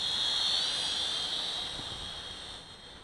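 A Huajun HJ818 Pathfinder toy drone flies past outdoors, its thin high-pitched rotor whine steady at first, then fading slightly as it moves away.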